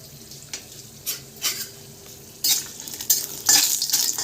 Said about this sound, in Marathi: खोबरं भाजून घ्यायचं